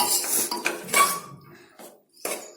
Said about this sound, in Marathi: आता याला पण छान मिक्स करून घेऊया मसाला व्यवस्थित शेंगांना आणि आलूला व्यवस्थित लागलेला पाहिजे